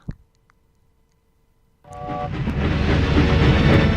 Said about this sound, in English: Ooh, that's a nice front for the train.